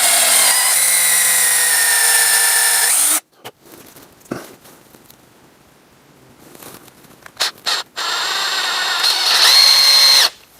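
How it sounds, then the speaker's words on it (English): A power drill whines loudly at close range, drilling into a wooden axe handle, stops for a few seconds of quiet with scattered knocks, then spins up again in a second burst. "I got a small drill bit, and I'm going to step all the way up to 5/16."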